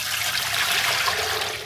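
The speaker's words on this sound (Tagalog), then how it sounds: "Lagay lang po tayo ng tubig." Water runs steadily into a pot, a continuous splashing, gushing pour close by with no talking.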